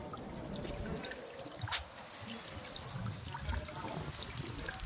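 Water trickles and drips steadily from a marble tear fountain in an old house, a continuous close patter of droplets with no speech.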